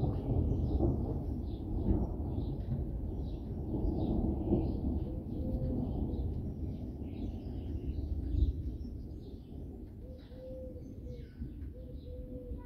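A long, low rumble of thunder during a violent thunderstorm rolls on for many seconds, heavy at first and slowly easing, with faint bird calls above it.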